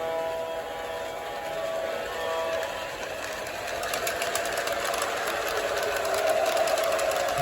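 A Santa Fe model train hauling a heavy load of railroad spikes runs with a steady mechanical whir and clatter, holding at an even level close by and growing slightly louder toward the end.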